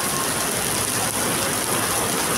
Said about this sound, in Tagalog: sobrang lakas ng ulan, grabe